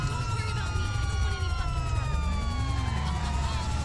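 Police sirens from the video game LSPD First Response wail with steady rising and falling tones over a low engine rumble during a chase, with talking underneath.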